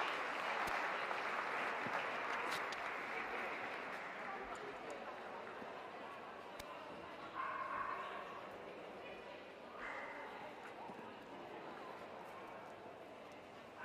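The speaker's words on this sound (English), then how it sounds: "a warm round of applause for those who leave the ring." Faint, distant audience applause in a dog show ring at a utility and terrier group event, a steady wash of clapping that slowly thins out, with background voices and arena noise.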